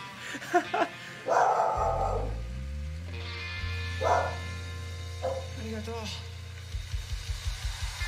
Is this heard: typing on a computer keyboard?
no